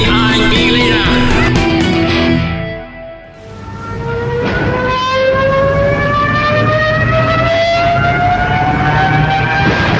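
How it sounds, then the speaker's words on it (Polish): Wailing siren of a Junkers 87 dive bomber from 1940: layered rising and falling tones that fade to a dip, then return as one loud, steadily climbing scream sustained to the end. "Ten dźwięk syreny nurkującego bombowca Junkers 87 stał się latem roku 1940 prawdziwym koszmarem mieszkańców Wielkiej Brytanii"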